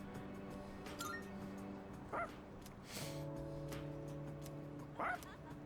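Koromaru, a dog in the video game Persona 3 Reload, gives two short, quiet barks a few seconds apart over a steady background of game music.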